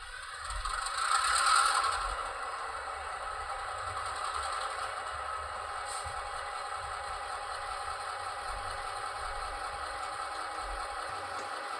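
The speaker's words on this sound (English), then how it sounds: "We can hear that engine starting up." An Athearn Genesis GP-38 model locomotive's sound system starts up on a track, a faint rattling engine rumble that swells briefly at first and then settles into a steady idle with light mechanical clatter, no talk.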